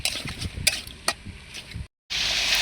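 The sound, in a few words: pumpkin pieces sautéing in spiced oil in a pan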